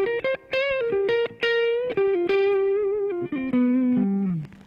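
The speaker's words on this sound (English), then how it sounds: "Let's turn the EP booster on." An electric seven-string guitar is played through an EP booster pedal into a Blackstar HT-1RH amp, a clean boosted tone picking out short melodic notes and bends with brief gaps between phrases.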